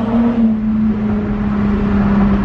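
A 2010 Acura TL engine drones steadily under light throttle from inside the cabin, a loud, even hum with mild road noise and no voices.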